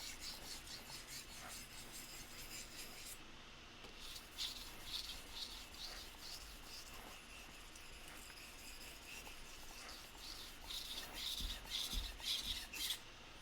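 Knife blade stroked over the 1000 grit side of a whetstone, a soft, close, steady rasping rub repeated in a continuous back-and-forth rhythm, growing slightly louder toward the end.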